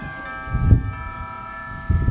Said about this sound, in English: Those beautiful bells you are hearing signal the start of our 14th annual caroling outreach.